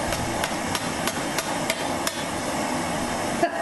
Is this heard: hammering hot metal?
yes